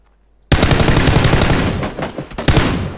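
Rapid automatic gunfire from PUBG, a long loud burst of shots starting abruptly, easing off, then a second cluster of shots near the end, with no talk over it.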